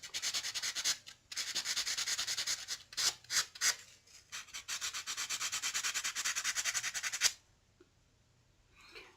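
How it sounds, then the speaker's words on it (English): Steady, gritty rubbing of a fine-grit sanding pad on a cabochon stone, removing tool marks, close and continuous with a few short breaks and quick strokes, stopping abruptly near the end. "You can take your fine grit sanding pad, protect your stone"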